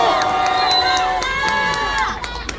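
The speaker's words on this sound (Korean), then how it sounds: "저희 대학생들 박수와 함성 질러보겠습니다" University students at a press conference outside a police station clap and shout loudly together, a dense burst of cheering voices and sharp claps that carries on throughout.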